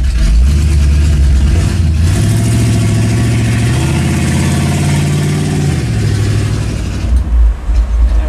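A 1971 Pontiac LeMans Sport V8 idling at a red light, a loud close rumbling idle with a steady low throb, rising slightly midway before settling, ending in a few uneven bumps.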